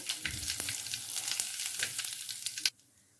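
Curry leaves and a pinch of asafoetida sizzle and crackle in hot oil for a small-onion thokku, a steady close frying hiss with a few sharp pops, ending in a loud clatter and sudden quiet.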